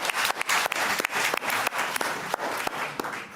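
An audience at a lecture hall event applauds volunteers, a loud, sustained burst of many hands clapping close by, with no talking.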